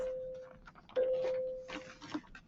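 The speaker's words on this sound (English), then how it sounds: "Sorry, that bell's ringing." A bell rings during a math lesson as a steady, faint tone that holds across most of the moment, sounding distant beneath background room noise.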